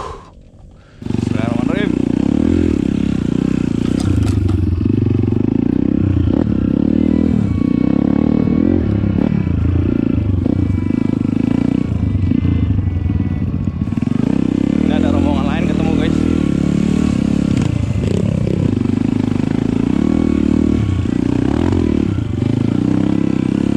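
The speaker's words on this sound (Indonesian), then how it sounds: "langsung bawa motor Mamang Hijau" A motorcycle engine revs and roars loudly and continuously on a new, rough dirt trail, with clattering and scraping from the terrain and occasional shouting over the engine noise.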